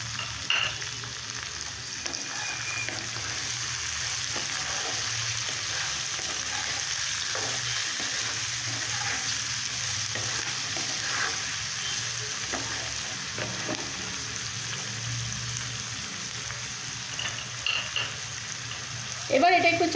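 Onion and tomato frying in a pan with salt and sugar added for a Bengali parshe fish curry, giving a steady, close sizzle with faint stirring scrapes that runs unbroken for the whole stretch.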